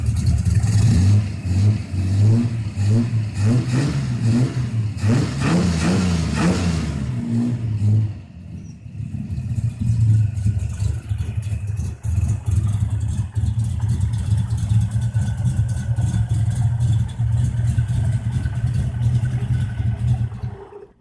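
A Valiant Charger with a 245 Hemi 6 engine revs in a few quick rising blips, then settles into a loud, steady, lumpy idle around 800 to 900 rpm, close to the car with no talk.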